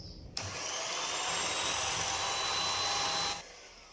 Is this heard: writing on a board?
no